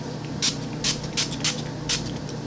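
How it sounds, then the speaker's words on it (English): Five short hissing bursts of a spray bottle, evenly spaced and close, with steady faint background noise between them. "Next is spraying this all down. So the Skindinavia finishing spray."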